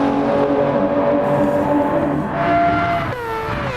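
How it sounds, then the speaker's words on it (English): A rotary-engined race car in Gran Turismo 7 at Monza drones with a steady, buzzing engine note that holds level, then shifts pitch sharply near the end, as if changing gear or passing. "There goes Fairley, that amazing sounding rotary race car"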